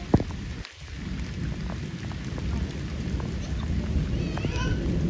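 Steady rain falls throughout on a village in Punjab, a dense hiss with scattered louder drops close by, and a faint voice briefly surfaces near the end.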